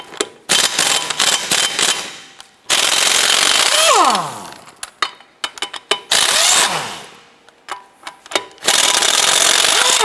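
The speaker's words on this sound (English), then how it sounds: "you can use a 22mm socket with your impact gun." An impact gun fitted with a 22mm socket loosens the lug nuts on a 2007-2012 Nissan Versa front wheel, firing loud, close rattling bursts with gaps between them, and lug nuts clinking between bursts.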